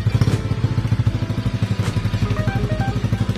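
RXF 50 motorcycle engine being revved while it idles and charges a flat battery, a loud close, rapidly pulsing exhaust putter with throttle blips and rattling clatter throughout.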